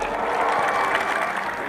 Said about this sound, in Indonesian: Tepuk tangan untuk jurnalis Indonesia